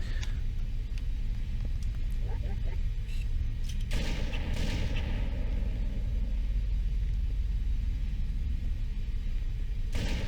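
Halo firefight with gunfire over a constant low rumble of battle noise, a few scattered shots early and a louder blast-like burst partway through, dense and continuous throughout.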